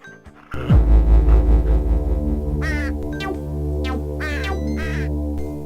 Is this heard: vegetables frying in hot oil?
no